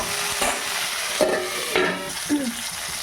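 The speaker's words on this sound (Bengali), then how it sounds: "আমি একটু ঢাকা দিয়ে ফুলকপিটা ভেজে নেব" Cauliflower fries in a pan as it is stirred, giving a steady sizzle broken by a few distinct scraping strokes of the spoon against the pan.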